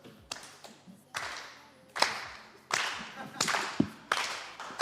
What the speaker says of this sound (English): we're going to get this live audience engaged through cheering and clapping